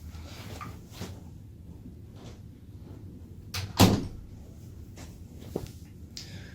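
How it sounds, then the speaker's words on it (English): A door in a practice room swings shut with one sharp thud near the middle, after soft shuffling and handling sounds, followed by a smaller knock. "So I'm going to go close that door."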